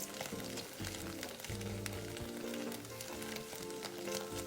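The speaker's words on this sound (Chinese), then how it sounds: "再将备好的香菇丁倒入，拉一拉油，这样香菇的香味更出来" Diced shiitake mushrooms tipped into a wok of hot oil left from frying scallions, giving a close, continuous crackling sizzle with faint stirring underneath.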